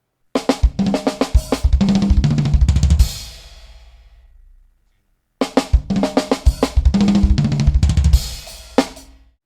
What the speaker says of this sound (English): So this is the drum breakdown here.